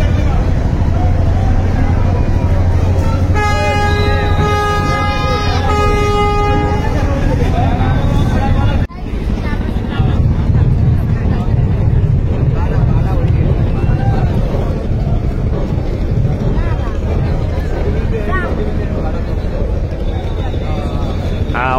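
Sundarban 16, a passenger river launch leaving Barisal for Dhaka, sounds a steady tonal horn for several seconds over loud crowd and engine rumble, with people talking nearby throughout.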